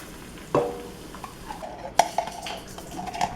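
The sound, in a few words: stirring tomato paste with water in a pot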